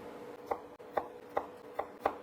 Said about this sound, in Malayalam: നമുക്ക് ഈ 2 സ്ലൈസിനെയും 2 ചെറിയ ചെറിയ ക്യൂബായിട്ട് കട്ട് ചെയ്തെടുക്കാം